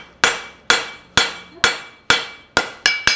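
A farrier strikes a horseshoe on an anvil to draw out the trailer, seven sharp ringing metallic blows at a steady rhythm, each decaying briefly, the last two coming closer together.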